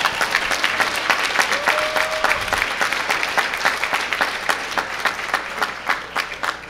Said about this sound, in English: Please give the winners a round of applause.